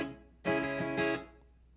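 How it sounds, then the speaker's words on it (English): A guitar strumming pattern played slowly: a few ringing strummed chords in quick succession, close and clear, and then the strings fade away. "the strumming pattern is going to sound like this. I'm going to play this slowly."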